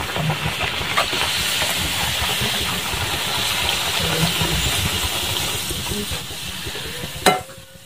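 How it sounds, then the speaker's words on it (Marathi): Puris deep-frying in hot oil for a village festival feast, a steady loud hiss and bubbling sizzle running throughout, with a sharp clatter near the end. "तर अशाच प्रकारे पूर्ण पुड्या तळून घ्यायच्या आता।"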